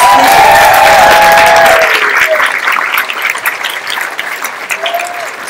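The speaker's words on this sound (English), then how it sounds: "Let's give them a round of applause." A bar audience at a science talk gives the bartenders a round of applause: a loud burst with some cheering that gradually thins and fades, with a few scattered voices.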